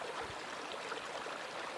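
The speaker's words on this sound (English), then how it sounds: "I sit here at the top of the waterfall" A waterfall at the south gate of Mount Shasta, heard from the top of the falls, makes a steady, full rushing roar of water with no pauses.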